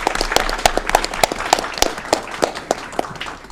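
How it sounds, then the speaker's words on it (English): An audience at a city council meeting bursts into applause, with dense, sharp claps continuing steadily at close range for a few seconds. "let's give them a round of applause"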